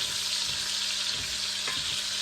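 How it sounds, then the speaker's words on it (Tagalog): Pork fries with ginger and garlic in a pan while being stirred, a loud continuous sizzle with soft scraping strokes running underneath. "haluin na natin sa luya at saka sa bawang"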